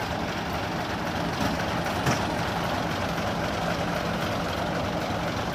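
A truck engine labours steadily on a steep hill climb at Bukit Kodok, a loud continuous low rumble that holds throughout with no pauses, heard close and without talk.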